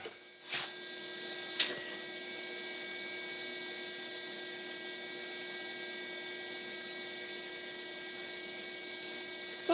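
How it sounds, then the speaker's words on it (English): A MIG welder gives off a steady, even electrical hum with a faint tonal whine, broken only by a couple of brief knocks near the start. "It's a fucking MIG welder."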